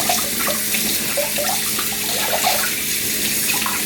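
Water pours steadily from a tap in a continuous rushing hiss, close and fairly loud, with faint splashing.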